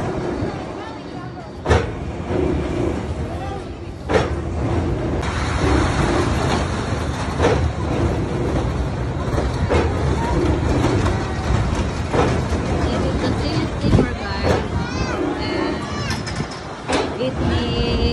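The Silly Steamer amusement ride runs at Steel Pier in Atlantic City, New Jersey, giving a loud continuous rumbling clatter with a few sharp knocks and a hiss. Crowd noise and speech blend in throughout.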